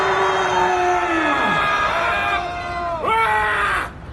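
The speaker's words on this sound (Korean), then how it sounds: "우리 모두 함성 한번 질러봅시다!" A large crowd of doctors at a national physicians' protest rally lets out a loud, sustained shout of voices together, the pitch sliding down and then rising again in a second surge before it cuts off.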